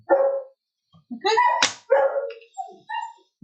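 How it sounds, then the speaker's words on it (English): A dog barks in a handful of sharp, separate yips and bow-wows spaced by short pauses, close and fairly loud, heard on its own without talk. "That is our celebrity dog."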